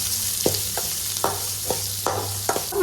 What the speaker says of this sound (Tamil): இப்போது நல்லா வதக்கி வச்சுக்கோங்க.